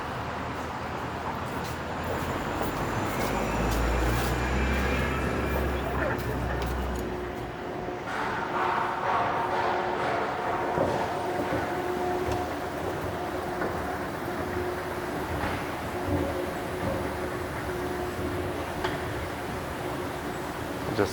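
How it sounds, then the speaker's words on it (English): Toronto subway station ambience with a train, a low rumbling roar peaking early then settling into a hollow echoing hum with scattered clanks and faint voices. "I'll hop into the subway station here."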